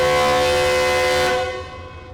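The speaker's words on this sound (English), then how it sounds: "I'm going to hear the sound of that massive horn, and this time I'm standing right next to it outside the train" Massive horn on a train sounding right beside the listener standing outside the train, a loud sustained blaring chord that holds for over a second, then cuts and decays away.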